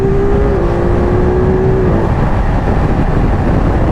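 A Ducati Multistrada V2S engine revs on a downshift, a loud, close, continuous roar that drops in pitch partway through and then settles into a rough drone.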